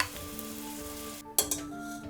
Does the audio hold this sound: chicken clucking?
no